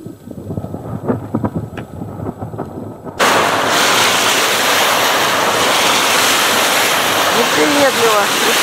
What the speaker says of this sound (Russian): ветер, волна.